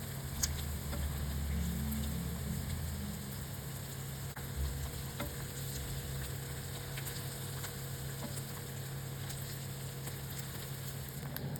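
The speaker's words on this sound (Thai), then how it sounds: "เราก็ใส่ สาหร่ายลงไปทอดได้เลยค่ะ" Wakame seaweed coated in batter fries in hot oil, giving a soft, steady sizzle with a faint low hum underneath and the occasional tiny pop, quiet and continuous throughout.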